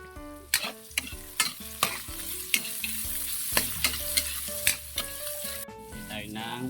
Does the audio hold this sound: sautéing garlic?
yes